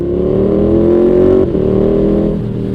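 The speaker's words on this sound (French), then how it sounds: "Il y a vraiment une espèce de rugissement de la moto qu'elle n'avait pas avant" A KTM 1290 Super Duke motorcycle with an aftermarket exhaust revs and holds a loud, deep, throaty roar, with a brief dip midway before building again; no voices.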